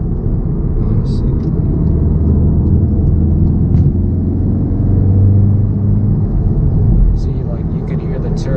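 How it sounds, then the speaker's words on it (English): VW MK7 Golf R cruising in normal mode, a loud continuous low engine and road rumble from inside the cabin with a faint turbo whine on top, steady throughout. "you could hear the turbo, and it's not even on race or even in sport. You can still hear that whine a little bit"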